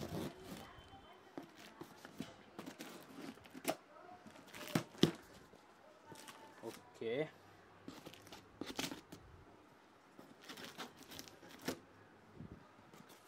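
Cardboard packaging for a Zana luggage top rack for a 2021 Royal Enfield Interceptor 650, the box rain-softened and damp, being opened with intermittent tearing, crinkling and scraping handling noises, fairly quiet, with someone speaking now and then.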